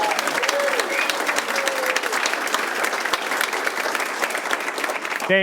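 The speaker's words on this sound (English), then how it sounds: "Big applause for any mom." Audience applause from a crowd at a conversation event on retirement, loud dense clapping sustained for several seconds, with a brief voice near the end.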